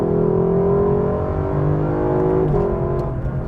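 A 2019 Lexus LC 500 luxury coupe's 471 hp engine revs loud and close, a smooth sustained harmonic roar that holds steady, dips briefly through a gear change, then pulls on again.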